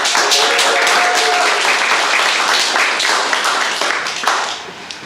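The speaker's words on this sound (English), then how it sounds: "One more round of applause." Audience applause at Domino World 2019 fills the hall with dense, steady clapping from a large crowd, loud and continuous before tapering off slightly near the end.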